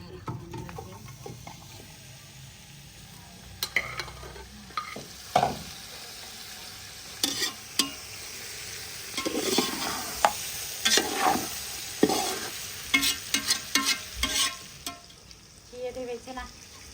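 Vegetables sizzle as they fry in a pot during Chinese rice cooking in a village kitchen, with a steady frying hiss under repeated scraping stirs and clinks of a spoon, faint background voices at times.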